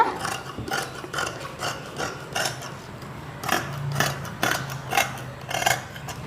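Scissors snip through folded chudidhar fabric while a sleeve is cut out, giving a run of repeated crisp rhythmic cuts with faint rubbing of cloth between them, close and clear with no talking.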